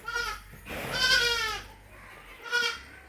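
Milk goat with two kids bleating: a quavering bleat at the start, a longer, louder bleat around the middle, and a short final bleat, with no talk.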